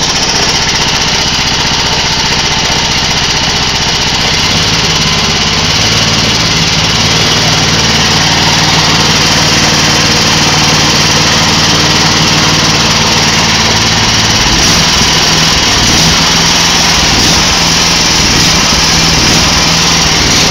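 Small petrol engine running at about 2,500 RPM, driving a Fisher and Paykel Smart Drive washing machine motor as a generator, a loud, close, continuous buzzing drone that holds steady throughout with slight shifts in pitch.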